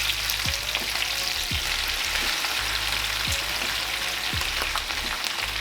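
Spinach frying in olive oil in a skillet gives a steady, even sizzle with a few soft knocks of a utensil against the pan, close and with no voices.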